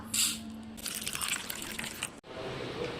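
Water pours steadily into a container to soak sabja seeds for a summer nongu milk sharbath, a close splashing fill lasting a couple of seconds with a brief drip before and a short break near the end.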